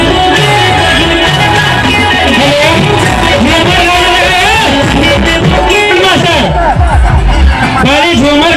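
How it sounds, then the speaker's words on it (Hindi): A large crowd at a Jairam Mahto rally in Bilanditand, Banaso, Bishnugarh, a loud, dense babble of many voices close by, with someone talking over the hubbub throughout. "ओ भाई पूरा देखिए एकदम पूरा भीड़ लगा दिया"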